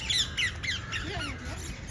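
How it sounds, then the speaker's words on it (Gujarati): A red parrot lets out a series of harsh, high squawks close by, repeating in quick bursts over faint background murmur. "જો અહીંયા છે ને લાલ કલરનો પોપટ છે."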